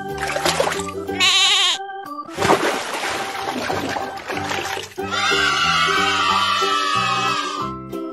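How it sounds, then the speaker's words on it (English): Cartoon goat bleating over bright children's music, a loud wavering animal call standing out near the start amid steady tones and splashy effects. "Goat."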